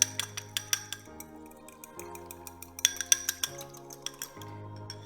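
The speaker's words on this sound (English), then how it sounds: "Whisk that together." Cucumber dill salad dressing of olive oil, salt and pepper is whisked in a bowl, producing quick rhythmic metallic clinks and ticks over soft background music.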